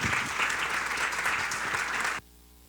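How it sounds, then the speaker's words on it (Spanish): A congress audience at a family event gives a speaker strong, dense applause that holds steady and loud for two seconds, then cuts off abruptly, leaving a quiet room hum. "Recibámosle, por favor, con un fuerte aplauso."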